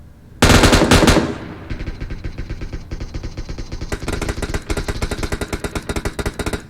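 Rapid automatic gunfire rattles loudly in long bursts, opening with a heavy blast and continuing as a steady mechanical stutter with no talk.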